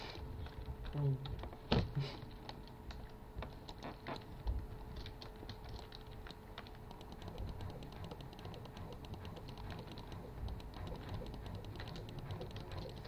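Computer keyboard keys clatter in scattered, uneven taps through a quiet indoor room, faint and close, with a few louder clicks and shuffles near the start and murmured sounds in the background.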